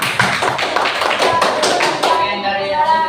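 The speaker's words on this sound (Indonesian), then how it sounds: "Tepuk tangan untuk kelompok berdua." A presenting group in a classroom gets a burst of audience applause: dense, close clapping for about two seconds that thins out toward the end.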